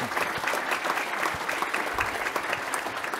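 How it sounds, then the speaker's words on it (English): A crowd applauds steadily, dense clapping filling the room at an even level throughout. "So again, a round of applause for our"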